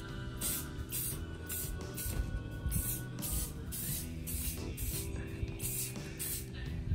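Aerosol spray can spraying black paint during a cosmetic refurb of a Honda Silver Wing motorcycle, a series of close, loud hissing bursts in short repeated pulses with brief pauses between them.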